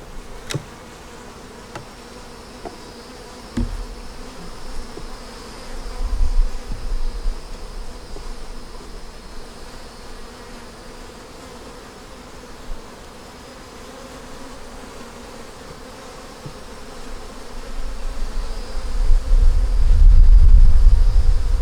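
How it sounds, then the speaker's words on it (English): Honey bees hum around an open hive during an inspection, a constant, close buzz that rises and falls with the movement. Wind rumbles against the microphone toward the end. "It has some bees, baby bees hatching out."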